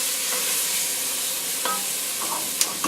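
Bell pepper, onions and celery are stirred quickly in a hot gumbo pot, giving a steady bright sizzle with a few scraping strokes and sharp clatters near the end.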